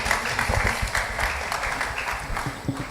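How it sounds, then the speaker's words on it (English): An audience at a Nigerian Bar Association business law conference applauds a panel moderator, a broad, continuous wash of many hands clapping at moderate volume, holding steady before thinning slightly at the end. "A round of applause for her, please."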